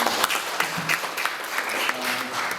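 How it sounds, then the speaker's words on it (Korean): Audience applause at a national assembly suicide-prevention policy seminar, a dense steady wash of many hands clapping with a few faint voices, lasting the whole stretch at moderate loudness. "박수 한번 주시죠"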